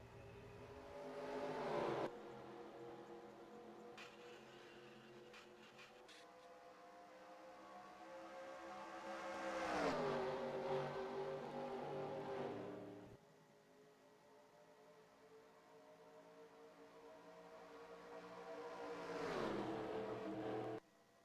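Race car engines roaring in a simulated Talladega Superspeedway stock car race, repeated waves of loud pack engine noise rising and falling as cars sweep past, with quieter droning stretches between.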